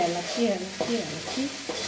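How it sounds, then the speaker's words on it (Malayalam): Okra fries in coconut oil and is stirred, giving a steady sizzle with scraping stir strokes, partly under a voice. "അത് വെളിച്ചെണ്ണ കിടന്നാണ് മുരിയുന്നത്"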